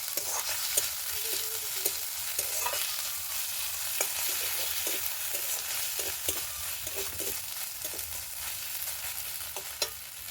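Ginger garlic paste frying in a pan, a steady close sizzle with scattered stirring clicks and scrapes of a utensil running throughout, no voices.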